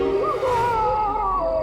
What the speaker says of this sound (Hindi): एक आत्मा की चीख है।